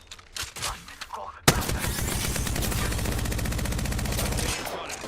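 Sustained rapid video game gunfire erupts after a brief stretch of quieter sounds, a dense, loud automatic burst that runs steadily for about three seconds before easing off.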